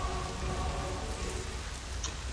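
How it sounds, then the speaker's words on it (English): Steady rain falls in Hitman: Blood Money, a dense, even hiss of drops on hard surfaces that carries on without pause, with no voice over it. "It's raining!"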